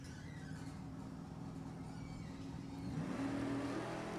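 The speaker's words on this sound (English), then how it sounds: "Erickson, 70 Nova. We'll see how loud his small block is." A 1970 Chevy Nova with a small block V8 at a drag race, heard as a steady engine drone that swells into a louder rising rev near the end, fairly distant, with no talk over it.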